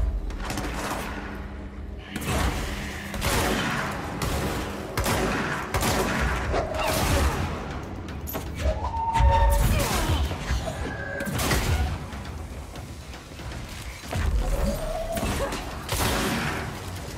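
Repeated booming blasts and bursts of gunfire-like cracks in the video game Control, irregular and fairly loud, with mechanical clanks in between.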